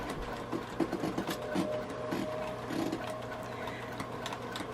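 A sewing machine stitches fabric for a tote bag, its needle running in a quick mechanical whir with short pauses and restarts, fairly quiet and close.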